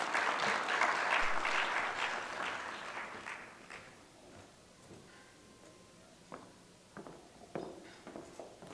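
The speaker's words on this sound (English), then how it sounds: "Please give a round of applause for Ms. Dr. Julie Valenzuela." An audience at a violence intervention conference applauds a speaker, dense clapping that is strongest at the start and thins out into scattered claps over several seconds.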